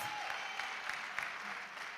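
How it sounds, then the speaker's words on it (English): A round of applause from the audience at a university research and innovation week postgraduate day, a steady, faint wash of clapping that fills the whole moment evenly. "Can we have a round of applause for the two teams?"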